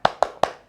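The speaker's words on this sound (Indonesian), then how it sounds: "Ayo tepuk semangat." Three crisp hand claps in quick even rhythm, close and loud, a short tepuk semangat cheer clapped for children in a primary school Islamic studies lesson.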